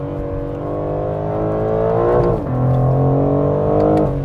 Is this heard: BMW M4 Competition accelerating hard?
yes